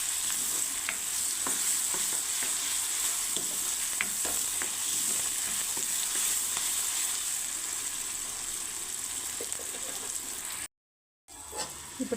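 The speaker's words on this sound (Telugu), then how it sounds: "ఆనియన్స్ బ్రౌన్ కలర్ వచ్చిన తర్వాత కాస్తంత అల్లం వెల్లుల్లి పేస్ట్ని కూడా వేసుకుని" Ginger garlic paste is stirred into browned onions frying in a pan, giving a steady oily sizzle with soft stirring scrapes and a brief cut to silence near the end.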